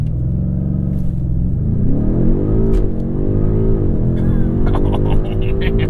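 A 2021 BMW M5 in launch control with four-wheel drive in sport mode surges forward, its engine rumbling loud and close, rising in pitch through revs with audible gear changes before a brief voice.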